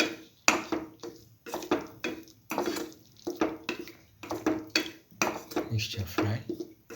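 A spoon scrapes and clatters repeatedly against a pan while a potato and coconut stir fry is sautéed and mixed, the sharp knocks coming in an irregular rhythm, close and fairly loud, with no talk.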